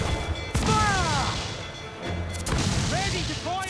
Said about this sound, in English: Those cannons have a long reach.